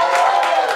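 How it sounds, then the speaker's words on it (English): A live comedy audience cheers and applauds, a dense wash of clapping and crowd voices that stays loud and steady through the short moment. "Please, do not cheer too loud."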